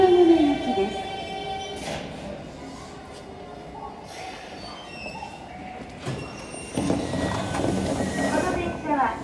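A Toei Asakusa Line 5300 series subway train runs with a rumbling roll and high metallic wheel squeals, growing louder and rougher toward the end. A station or onboard announcement voice can be heard over it.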